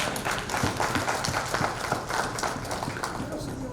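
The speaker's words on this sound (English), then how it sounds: "Please, a more round of applause for her, please" A crowd at a Rising Sun community outreach event in Boston claps for an IPOB women's leader, a dense round of applause with hands patting steadily throughout, fairly close and continuous, with some talk mixed in.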